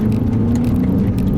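A 2019 Lexus GS F engine in manual mode during gear shifts, a steady, close, loud droning hum with continuous road and wind noise, no voices.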